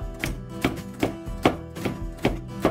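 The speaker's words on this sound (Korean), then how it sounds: "노랑, 빨강 파프리카도 적당한 크기로 썰어서 준비합니다." A knife chopping yellow and red paprika on a cutting board, with steady, evenly spaced close taps about every half second.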